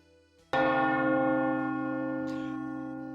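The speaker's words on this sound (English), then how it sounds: "now we get to listen to the death knell of this church bell" A single church bell tolls once with a sharp strike, then a long, loud ringing hum slowly fades; a faint second touch sounds near the end.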